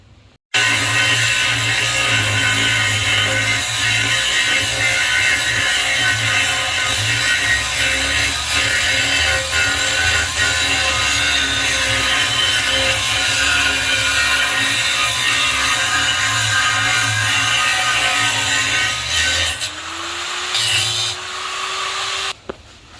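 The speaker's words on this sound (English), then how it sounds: "We'll cut the end of the bolt." An angle grinder cuts the end of a corroded bolt on a boat's Mercruiser outdrive, a loud continuous abrasive whine held steady for about twenty seconds, then spinning down and stopping near the end.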